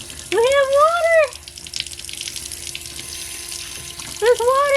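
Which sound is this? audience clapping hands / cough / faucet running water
faucet running water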